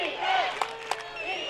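A home crowd of Bearcat fans at a high school football game chants for defense late in the game against the Saints, a dense roar of voices with a few sharp peaks, heard from a distance.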